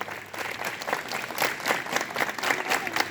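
Students at a school morning assembly clap together, a dense, steady patter of many hands at moderate loudness, heard from across the group.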